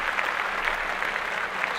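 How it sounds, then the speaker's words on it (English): A small group claps steadily, a dense uniform patter of hands at moderate level with no voices, lasting under two seconds. "Let's clap this up right away."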